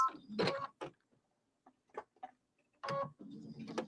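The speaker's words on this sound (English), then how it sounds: "I'm just going to sew kind of along the bottom of this rickrack just to hold it in place" Sewing machine stitching a baste along the bottom edge of rickrack on a fabric bench project, running in short loud bursts separated by quiet pauses, with a few faint ticks between them.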